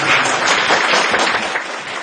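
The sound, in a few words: audience applause for the speaker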